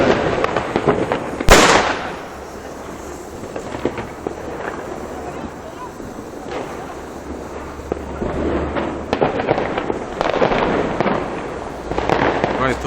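New Year fireworks in Split, Croatia, at the 2014 celebration. One loud close burst is followed by crackling and popping over a steady background roar, while people talk nearby.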